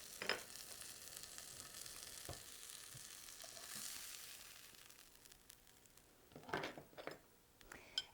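A homemade sausage patty fries in a pan with a soft, steady sizzle throughout. A few light scrapes and utensil clinks come through near the end.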